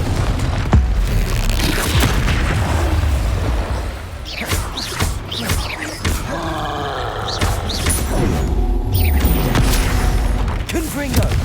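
Confringo fire-blast spells explode during a Hogwarts Legacy duel, with repeated heavy booms and crashes amid clashing battle noise and grunting voices.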